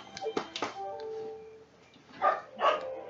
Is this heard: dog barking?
yes